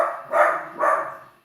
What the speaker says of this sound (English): Excuse my dog in the background. He is barking at the postie.